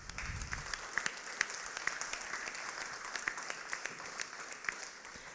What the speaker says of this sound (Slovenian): Zdaj pa še ena gospa, aplavz prosim